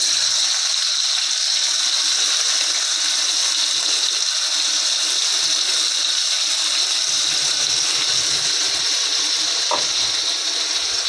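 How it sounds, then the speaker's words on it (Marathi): Water pours steadily into the pot that held onions while a broccoli dish is being cooked, making a loud, unbroken rushing hiss that lasts the whole time. "पाणी टाकायचं. ते कांद्याचं भांडं धुवून घेऊया."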